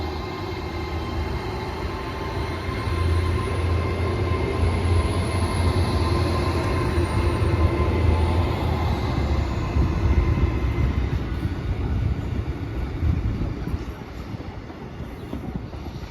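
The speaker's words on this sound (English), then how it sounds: "the 12:11 Avanti West Coast service from London Euston to Holyhead" An Avanti West Coast Class 805 train on the London Euston to Holyhead service passes with a steady loud rumble and broad roar that swells and fades slightly over about sixteen seconds, with no talk.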